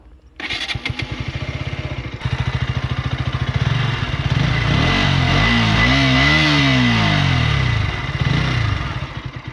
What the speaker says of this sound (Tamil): இப்போ இந்த வண்டியோட எக்ஸாஸ்ட் நோட்டு கேட்கலாமா